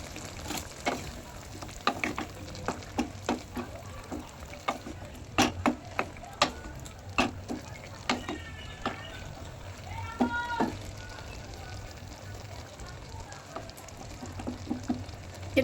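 Cut potato pieces go into a small-fish curry with raw tomato frying in a village-style pan, setting off a steady sizzle broken by sharp clatters and stirring knocks, with a voice briefly audible.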